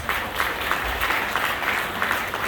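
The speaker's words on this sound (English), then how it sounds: "Give them a big round of applause" Hearty applause at a Rotary Club of Bukit Jalil installation night, a continuous dense roar of many hands clapping at close, even loudness throughout.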